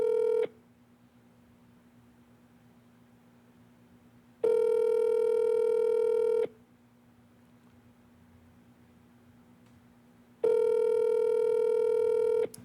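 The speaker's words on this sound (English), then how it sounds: "this is the longest ring ever" A telephone call rings out while waiting for an answer: two long electronic ring tones separated by quiet gaps, with a third starting at the end, clear and steady over a faint line hiss.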